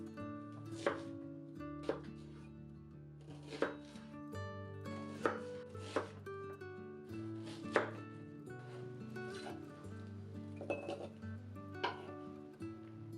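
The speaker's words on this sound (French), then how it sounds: "Coupez ensuite un demi-oignon en gros cubes." A knife chops half an onion into large cubes, with sharp strikes on a board at an uneven rhythm over soft background music and no talking.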